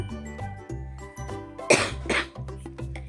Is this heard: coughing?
yes